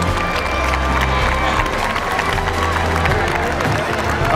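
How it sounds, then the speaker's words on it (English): Crowd at a kids' Power Wheels demolition derby at the Illinois State Fair applauding and cheering for the children and parents, a loud continuous wash of clapping and shouts with an engine-like drone underneath. "now let's give all these kids and parents a big round of applause"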